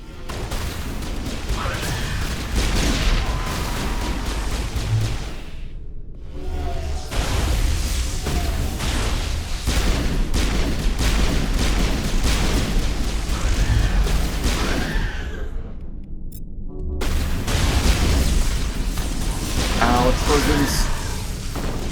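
Explosions and gunfire crash in a Mass Effect battle, dense booms and blasts throughout with two brief silent gaps, under someone talking at times.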